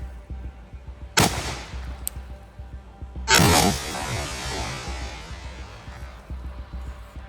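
Two sharp suppressed rifle shots from an 18-inch barrel with a Form 1 can, the first at about one second and the second louder and longer, each trailing into a fading outdoor echo.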